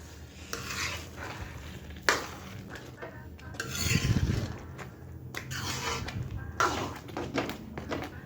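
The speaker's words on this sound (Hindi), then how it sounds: "अब शक्कर को हम यहाँ पे मिक्स करेंगे और तेज़ आंच पे ही हमें यहाँ पे हलवे को पकाना है शक्कर के साथ।" A spatula stirring sugar into carrot halwa in a pan over high heat, repeated close scraping strokes against the metal under a soft background sizzle, with occasional utensil knocks.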